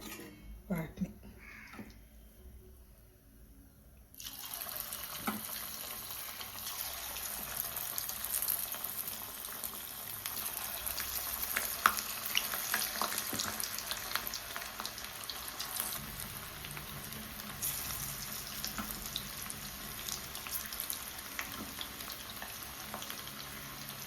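Cornflour-coated chicken pieces frying in hot oil, a dense continuous sizzle that swells after a quiet start, with a voice speaking now and then.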